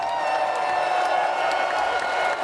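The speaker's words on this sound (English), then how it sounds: "I just want to give y'all a hand clap." A short burst of crowd applause with scattered whoops, loud and continuous, filling the full moment without any talk.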